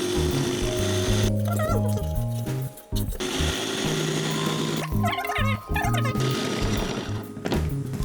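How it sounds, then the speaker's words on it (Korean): A home food processor grinds nuts into a runny praline for brownies, a loud continuous motor whir with a grinding rattle that briefly dips twice, as if pulsed, then runs on steadily. "이제 가정용 이런 푸드 프로세서로는 그렇게 곱게 갈기가 힘들어요."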